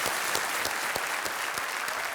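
A studio audience on a televised quiz show claps in a dense, steady burst of applause, close and lively, with no voices over it.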